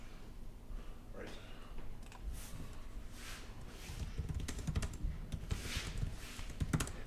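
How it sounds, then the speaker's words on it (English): Steady typing on a computer keyboard, a dense run of clicking keystrokes with harder pounding taps in the latter half, close and fairly loud. "Listen to my pounding of the keys."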